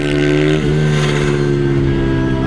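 A child's motorcycle accelerates at a race circuit during a French motorcycling school session, its steady mid-pitched engine drone loud and close, holding a constant whine with a brief dip partway through.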